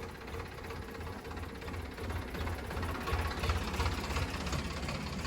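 A tractor engine idles and rumbles steadily in a village cultural procession, a continuous mid-pitched mechanical drone with faint knocking that swells slightly louder toward the end, with crowd noise in the background.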